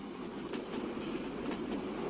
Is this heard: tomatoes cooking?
no